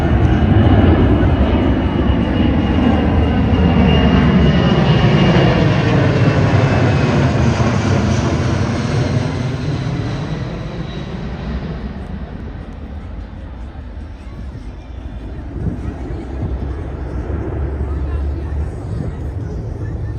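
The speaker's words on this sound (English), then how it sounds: "here's our C-17 Globemaster from Stewart Airways" A Boeing C-17 Globemaster military transport passes over an airshow, its jet roar loud and swelling overhead, then sweeping past and fading to a lower rumble while a voice talks over it.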